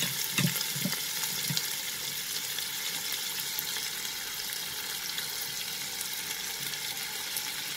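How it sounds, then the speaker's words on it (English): Chopped onion fries in a pan for a green peas dal, giving a steady broadband sizzle throughout with a few low thumps of stirring or pan contact early on, no voices. "now we will add the chopped onion"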